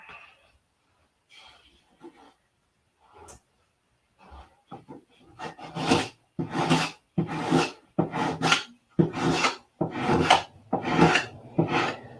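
An 80-grit sandpaper is worked by hand over a P-47 model part, starting with a few scattered taps and scrapes, then settling into about nine close, steady rasping strokes that are loud and rhythmic.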